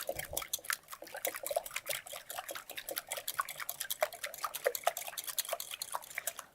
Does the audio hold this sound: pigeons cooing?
no